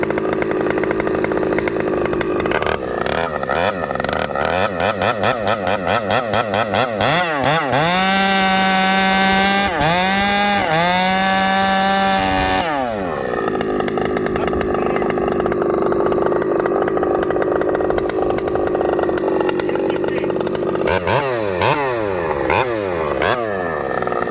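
An Ironhorse chainsaw runs loud and close for the whole stretch, holding a steady high whine that revs up and down several times, with no talk over it.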